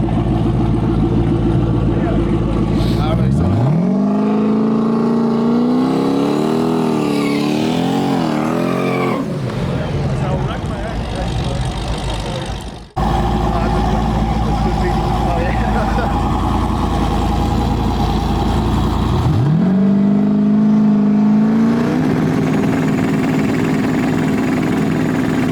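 Street race cars on an Ohio street launch and accelerate hard, engines rising in pitch through the gears, a loud roar that drops off and then repeats as a second pass builds, with a voice talking over parts of it.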